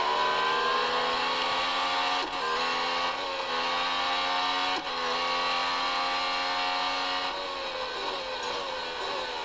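A Mercedes C63 and a Porsche GT3 R accelerate hard in a drag race, their engines producing a loud, sustained rising roar with brief dips between gear shifts.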